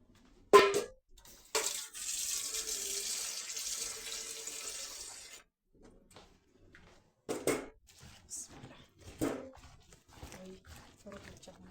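Water running from a tap into flour for kababta dough, a steady moderate trickle for several seconds, followed by scattered soft knocks and handling sounds.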